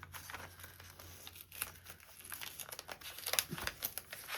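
Washi tape is pulled off its roll for a scrap-strip quilting border, giving soft crinkling and short tearing sounds that grow slightly busier toward the end, close but quiet.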